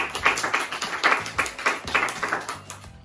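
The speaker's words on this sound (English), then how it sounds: "Give them a huge round of applause." Hands clap in a short burst of applause for a class quiz answer, a small group producing a steady run of sharp claps that tapers off and ends after about three seconds.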